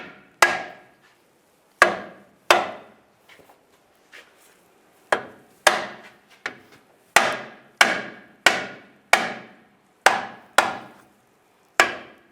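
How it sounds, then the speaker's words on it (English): A rubber mallet taps a cross member into place on a 2007-2013 Chevy Silverado during timing cover work, giving sharp, close thuds in an uneven series of about a dozen blows, some in quick runs, with short pauses between. "You can take a rubber mallet,"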